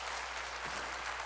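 A church congregation applauds at a spring mountain revival meeting, a brief, fairly quiet burst of clapping heard from a distance.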